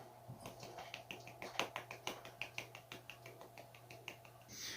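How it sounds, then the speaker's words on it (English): Light, sparse golf-style clapping, a quiet series of soft, evenly spaced claps from a single person, close and alone. "Golf clap."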